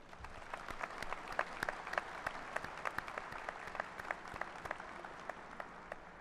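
A Spring 2021 college commencement audience gives steady, continuous applause, heard faint and distant with scattered sharper claps throughout.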